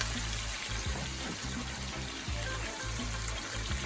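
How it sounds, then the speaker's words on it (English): Water pours steadily into a hot pan of sweet and sour chicken to make the sauce, a continuous splashing hiss with a low rumble underneath, lasting a few seconds with no voices. "And now I'm going to be adding a little water"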